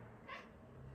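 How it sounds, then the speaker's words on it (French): Indoors, a cat gives a single short, faint meow at birds seen through a window, a brief cry over quiet room background. "J'ai Gus qui est en train de miauler parce qu'il voit des oiseaux à la fenêtre"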